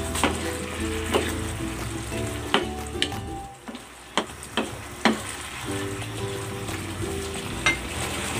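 Squid sizzling in a hot pan and being stirred, a continuous crackling fry with sharp clinks and scrapes of a utensil at irregular intervals, close and loud, with no talking.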